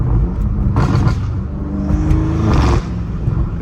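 A straight-piped 650 HP BMW M5 Competition accelerates hard, its loud raw exhaust roaring and rising close by with a brief dip where it shifts, then pulling on without any talk.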